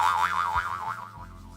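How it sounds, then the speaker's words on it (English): A twanging Jew's harp boing, the cartoon sound of getting hit on the head, wobbles in a quick vibrato that slowly fades over a low droning tone. "It's, again, the Jews Harp, and even sound effects like getting hit in the head."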